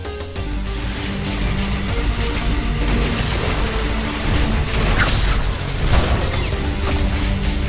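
Grinding machinery in the video game Ultrakill churns with a dense, loud, continuous mechanical rumble, with clanks and bursts layered through it and no talk.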